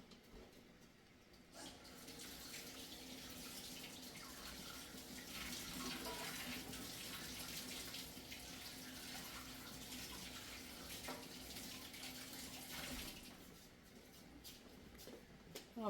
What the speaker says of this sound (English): I'm going to wash this real quick.